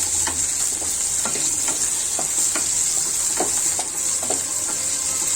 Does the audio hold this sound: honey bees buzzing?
no